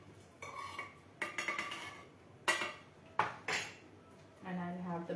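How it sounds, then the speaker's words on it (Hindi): A spoon scraping and clinking against a pot or bowl while food is mixed with oregano and chili flakes in a home kitchen, several sharp irregular knocks and scrapes, close and fairly loud, with no talking. "and I just smoothly mix it again"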